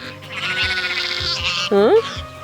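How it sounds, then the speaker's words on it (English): A ewe that gave birth that morning bleats loudly and close on a small farm, several wavering calls in quick succession with a person speaking alongside. "This sheep, it just gave birth today, this morning, right there."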